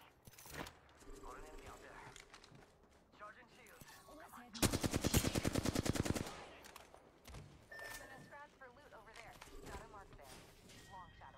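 A rapid burst of automatic gunfire from an Apex Legends video game match rings out for about two seconds in the middle, with scattered game sounds and a person talking around it.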